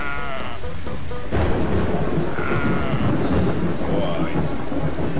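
Sheep bleat in a farming video game, several calls rising over a steady backdrop of heavy rain and rumbling thunder that fills the whole stretch.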